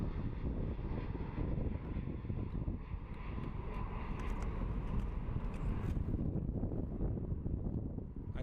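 A jet airliner climbing out after takeoff at Phoenix Sky Harbor airport, a steady broad engine roar that stays loud and continuous throughout, with some wind buffeting on the microphone and no talk.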